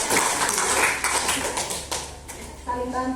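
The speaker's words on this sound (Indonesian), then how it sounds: "Kasih aplaus dulu" A classroom group claps in a short burst of applause. The clapping is fairly close and fades after a few seconds while voices carry on underneath.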